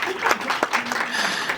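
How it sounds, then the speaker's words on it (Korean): An audience at a book-writing lecture breaks into brief, moderately loud applause, the clapping mixed with a voice speaking over it. "여러분 큰 박수 부탁드립니다"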